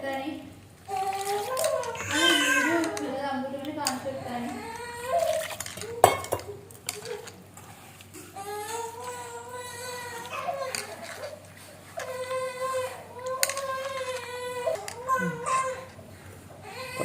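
A household scene of a young boy being fed, with dishes and cutlery clattering and a child crying and wailing in bursts. Voices of other people come through in the background.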